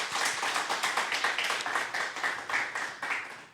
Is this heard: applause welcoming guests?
yes